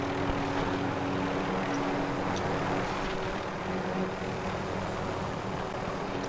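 Helicopter engine and rotor drone from a multiplayer shooter on PS4, a steady, continuous mechanical hum that fills the whole stretch at an even level with no talk over it.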